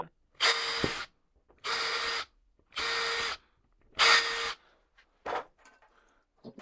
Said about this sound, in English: We'll fast forward this as I'm drilling these holes and getting this one screwed.